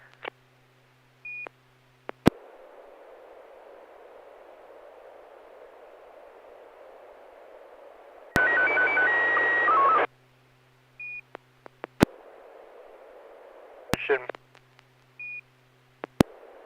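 Amateur radio static hiss broken by clicks and short beeps, with a brief burst of louder warbling SSTV tone in the middle, fairly quiet overall.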